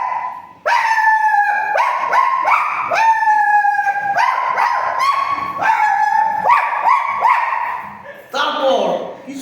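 A voice imitates dogs, a loud, close series of drawn-out howls and whimpering yelps that rise and fall in pitch, one after another with short breaks between them.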